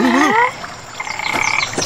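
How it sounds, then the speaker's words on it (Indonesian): A frog croaks loudly and close by near a pond or stream while people search for fish, a short burst of rising calls followed by a quieter second round of croaks. "Ada katak."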